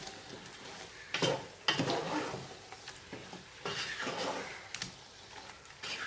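Biryani masala is stirred in a cooking pot, giving soft scraping and clinking strokes at irregular intervals over a faint background sizzle.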